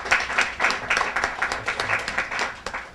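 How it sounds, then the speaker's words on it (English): An audience at a formal address gives a dense, steady round of applause, with many hands clapping close by throughout. "So let's give our mothers and sisters a big round of applause."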